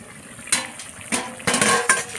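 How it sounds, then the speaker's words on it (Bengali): A lid comes off a pot of boiled potatoes and vegetable stems, giving a few short metallic clinks and scrapes, close and sharp, spaced across a couple of seconds. "ঢাকা খুলে দেখবো আলু আর ডাঁটা সেদ্ধ হয়েছে নাকি"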